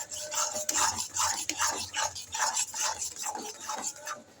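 Paneer is stirred into pea halwa in a pan, a spoon scraping and rubbing in a quiet, regular rhythm of soft strokes, close and fairly faint.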